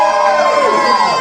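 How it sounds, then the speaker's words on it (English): A live improv-show audience cheering for Tesla and Edison, a loud, sustained crowd roar of mixed voices and whoops, over almost at once. "cheer now."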